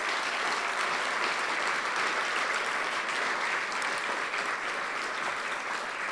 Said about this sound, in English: another round of applause to all the award winners and all the finalists